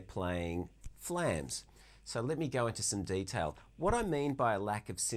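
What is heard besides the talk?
No everyday noises stand out.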